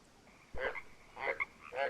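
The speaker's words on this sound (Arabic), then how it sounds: "ضفدع." Frog croaking in the jungle survival game Green Hell: three short, fairly loud croaks spaced about half a second apart, with low background ambience.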